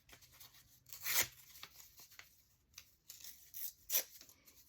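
Paper scraps are torn by hand in quiet, irregular rips, with a few sharper bursts of tearing between soft rustles and pauses.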